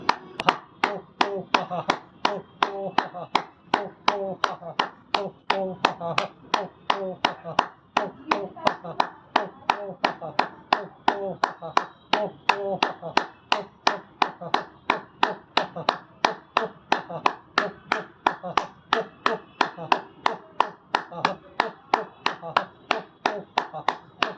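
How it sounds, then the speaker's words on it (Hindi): Steady rhythmic hand clapping as a yoga clapping exercise, sharp claps repeating evenly and loudly for the whole stretch, close by, with no voice over them. "तो 2 मिनट में आपको ये तालियां बजा के दिखाता हूँ।"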